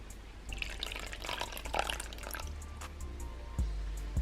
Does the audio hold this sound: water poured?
yes